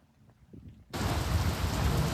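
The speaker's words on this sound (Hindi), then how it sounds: "बारिश बहुत जोर से हो रही है" Heavy rain suddenly bursts into a dense, loud roar of downpour after a quiet, muffled start, with a thunderstorm rumbling beneath the hiss.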